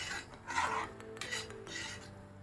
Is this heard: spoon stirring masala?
yes